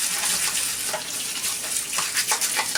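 Water runs steadily from a tap into a laundry sink while a small pet's cage wheel is washed, a continuous close gushing splash that shifts slightly as the wheel is moved under the stream.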